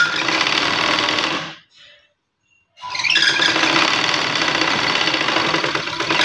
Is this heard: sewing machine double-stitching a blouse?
yes